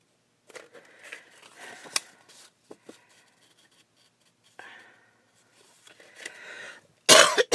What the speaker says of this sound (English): I still got my cough